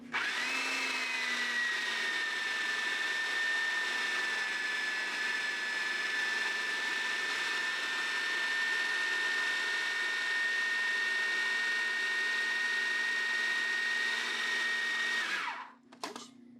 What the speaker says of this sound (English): we're going to mix it until it comes together into a dough